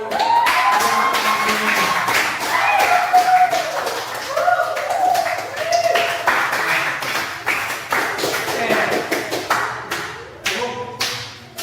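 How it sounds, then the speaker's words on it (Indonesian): An audience of school students claps during a classroom session, a long, loud run of scattered hand claps with voices cheering and calling out over it. "Tepuk tangan dong buat"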